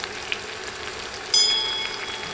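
Sweet pumpkin and softened onion fry in a pan with chopped green chilli over medium heat, giving a low, steady sizzle with one sharp clink partway through.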